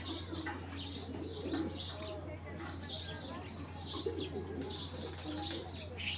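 Tournament Girbaz pigeons coo repeatedly at close range in a loft, soft throaty calls with occasional chirps and wing flutters over a steady background hum and some human voices.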